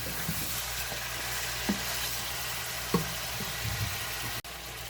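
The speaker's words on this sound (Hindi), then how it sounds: "हमें अच्छी तरह से भून लेना।" Biryani masala with chicken fries in a pan, a steady soft sizzle running throughout, joined by a few faint knocks and stirs of a spoon and a brief clack near the end, with no voices.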